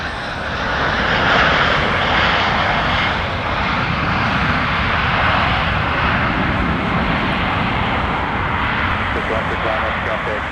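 An airplane takes off at MSP airport in winter, giving a loud, steady engine roar that swells early on and holds throughout.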